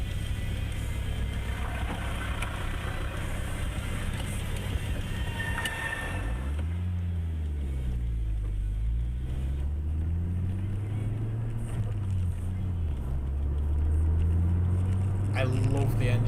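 Racing car engine in the Project Cars video game, a smooth steady drone with pitch sweeping up and down through gear changes, running continuously under a talking voice.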